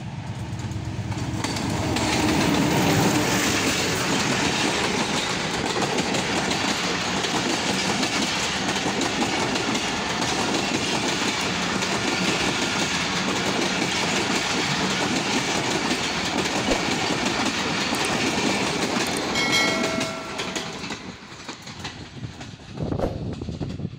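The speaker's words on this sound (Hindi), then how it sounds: "तो अभी आप देखेंगे उसी ट्रैक पे हम आपको रेलवे लाइन के ऊपर ट्रेन चलती हुई दिखाएंगे।" A train running along a railway line near the Taxila canal, a loud continuous rumble with rhythmic clickety-clack of wheels lasting most of the clip, fading slightly near the end.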